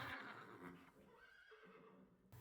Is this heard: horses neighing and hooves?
yes